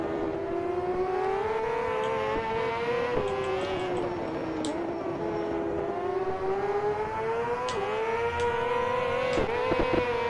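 Race motorcycle engines in the GP Bikes game during a World Superbike round, a loud continuous high-pitched whine that rises and falls with gear changes as a BMW superbike closes in.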